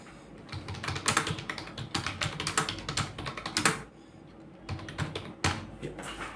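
Rapid clicking keystrokes on a computer keyboard as a search keyword is typed, close and crisp in uneven bursts with a short pause midway, no speech.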